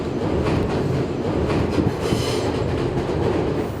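A New York City subway train runs steadily at close range, a loud continuous rumble with faint clickety-clack of wheels on rails and a brief squealing rise midway, with no voices.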